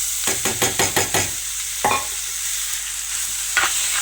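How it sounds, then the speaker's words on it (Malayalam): Cooked rice is mixed in a small bowl with a quick run of about six rhythmic scraping strokes, then two single strokes after pauses, close and clear without speech. "ഇത്രയും ചോറ് ഞാൻ ഇതിലേക്ക് മിക്സ് ചെയ്യുന്നുണ്ട്."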